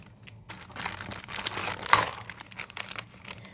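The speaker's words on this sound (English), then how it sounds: "so I do apologise for the rustling" Plastic and paper packaging crinkles and rustles as a parcel is unboxed, close to the microphone, in irregular bursts that grow busier through the middle before easing off, with no talking.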